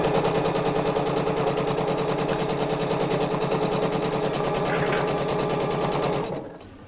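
A sewing machine runs steadily, stitching thin cotton voile for a crop-top or blouse, its fast regular needle rattle loud and close for about six seconds before stopping abruptly.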